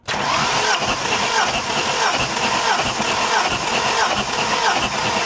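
A Ford AU Falcon engine cranks over steadily during a compression test, giving a loud, continuous churning drone with a rhythmic pulse that runs the whole time, without pause and with no talking.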